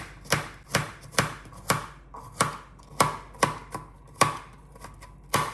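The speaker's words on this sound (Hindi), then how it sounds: "यहाँ पर मैं कर रही हूँ गार्लिक को चॉप" Knife chopping garlic and onion on a cutting board, a steady series of about a dozen sharp, close, loud chops in an uneven rhythm, with no talking.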